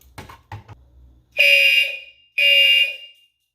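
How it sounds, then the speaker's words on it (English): A Gentex Commander fire alarm system sounds during a full alarm test, giving two loud, harsh horn blasts close by after a few soft clicks, with a short gap of silence between the blasts. "let's go ahead and test the true alarm"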